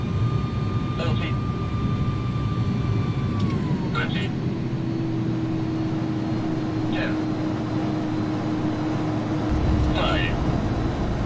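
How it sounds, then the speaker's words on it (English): In the X-Plane 11 simulator, an iniBuilds A300-600F's thrust reversers deploy after landing: a broad, steady jet-engine roar with a sustained mid-pitch whine and occasional clicks, heard loud and continuous throughout. "Okay, there go my reversers."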